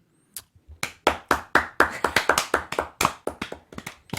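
Applause from a small group of people in a room, a burst of quick, overlapping claps that swells fast and keeps going steadily for several seconds, close and moderately loud with no talking.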